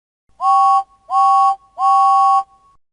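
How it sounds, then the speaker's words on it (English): A cartoon steam locomotive whistle in a Thomas and Friends video game toots three times in an even rhythm, each blast loud, clear and about half a second long, with short gaps and no other sound around it. "And he tooted 3 times on his whistle."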